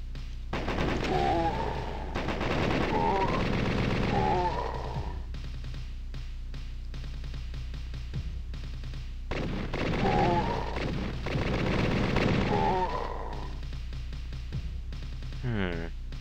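Rapid bursts of machine gun fire in the 1996 DOS game Tapan Kaikki, dense rattling volleys in two loud stretches with a low droning background between them, someone talking over the gunfire.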